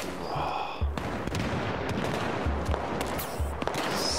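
A tank fires on the player in the Battlefield 4 campaign: several heavy, booming shots land in quick succession amid a rough, continuous din of combat.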